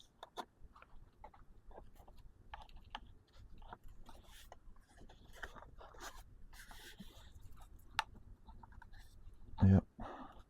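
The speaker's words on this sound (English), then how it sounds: "for right now, I'm just going to tape it to it so that it'll stay there" Adhesive tape pulled and pressed onto a model A-1 Skyraider airplane wing while fitting a servo, heard as scattered close clicks, scrapes and crinkles with a louder brief rip near the end.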